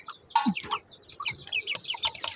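Several chickens cluck and chirp in short irregular bursts, close and moderately loud, with soft peeping mixed in.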